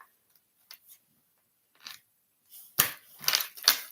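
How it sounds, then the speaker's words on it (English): Tarot cards being shuffled, a few soft riffling flicks early on, then a louder run of crisp, close card riffles and snaps toward the end, no voices. "I'm shuffling"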